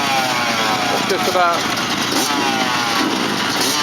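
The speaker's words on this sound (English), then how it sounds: "Warming the engines up." Race car engines warm up on the line-up at a hillclimb for clubman and sportsmen classes, a steady loud mechanical drone with a people talking over it.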